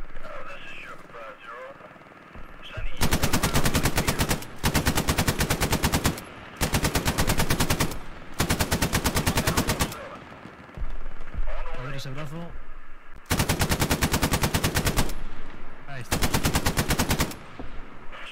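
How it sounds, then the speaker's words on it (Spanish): Machine gun fire in the World War II game Hell Let Loose on Omaha beach: repeated long, loud automatic bursts separated by short pauses, with players talking over radio between and under the shots. "Disparo TMG desde el norte."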